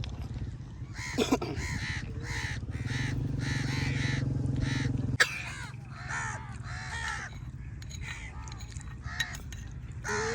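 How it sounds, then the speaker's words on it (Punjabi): Crows caw repeatedly in loud, harsh bursts throughout, with several birds calling close by over a steady low background hum. "ਕਾਂ ਆ ਗਏ ਸੀ ਉੱਡ ਕੇ ਦੋ ਉਧਰ ਕਿੰਨੇ ਜ਼ਿਆਦਾ ਆ ਗਏ।"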